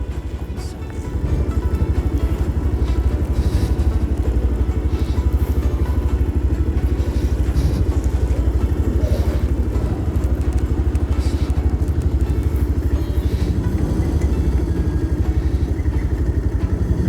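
A motorcycle engine drones steadily while riding through a crowded road in Tripura near a speed breaker, a close, continuous mid-pitched hum with clattering road noise and occasional crackles throughout.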